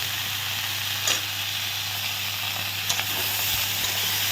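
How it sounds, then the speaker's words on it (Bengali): Bottle gourd greens with potatoes, salt and turmeric fry in a pan, a loud, close, continuous sizzle with a few scraping stir strokes and no talking. "ভালো করে নাড়াচাড়া করে তো আমি একটু সবজিটা কষিয়ে নিচ্ছি"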